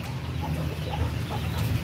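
A young white hen sitting on eggs for the first time gives soft, low clucking murmurs, close and continuous over a faint background.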